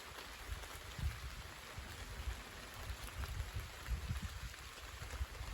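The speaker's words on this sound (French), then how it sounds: "Et là c'est beaucoup plus gros les gouttes." Heavy shower of large raindrops falling outdoors, a soft continuous patter with scattered louder drop impacts, faint and steady with no voices.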